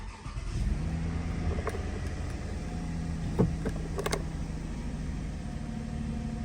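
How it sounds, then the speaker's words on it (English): A Lexus ES car engine starts and settles into a steady idle, with a continuous low rumble and a brief rise in revs near the middle. "Let's turn on the vehicle."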